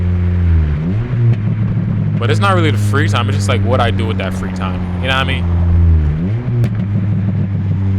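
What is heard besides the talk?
Honda K24 engine exhaust while driving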